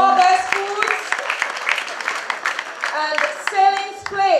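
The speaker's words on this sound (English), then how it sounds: "Let's have a round of applause." Audience applause at the St. Lucia Industrial and Small Business Awards ceremony, a dense patter of many hands clapping in a hall, continuous throughout with a voice speaking over the opening and closing moments.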